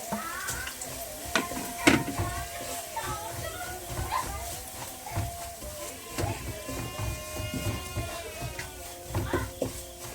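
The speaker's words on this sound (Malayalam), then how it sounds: "വെളുത്തുള്ളിയും പച്ചമുളകും ഇഞ്ചിയൊക്കെ ശകലം വഴറ്റി കഴിയുമ്പോൾ മുളക് പൊടി ഇടുന്നത്." Garlic, green chilli and ginger sauté in a pan, a steady sizzle with scrape-and-clatter stirring strokes throughout, while people talk over the cooking.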